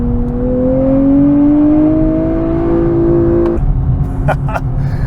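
A 2024 Nissan Z NISMO engine revs loud and close with a climbing, sustained howl, then drops sharply in pitch at a paddle-shifted gear change before settling into a steady drone.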